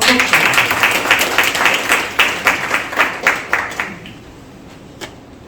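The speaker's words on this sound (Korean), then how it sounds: "우리 박혜성 반장님 오실 때 큰 박수 부탁드리겠습니다" An audience at the 55th Dandi Venture Forum, a Korean business event, applauds loudly in dense rhythmic clapping that thins and fades toward the end, with a final isolated clap.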